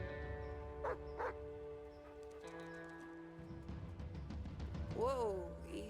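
A dog named Roosevelt in As Dusk Falls, a video game, barks in two sharp bursts and then lets out a rising whine, under a low background drone with a voice speaking briefly.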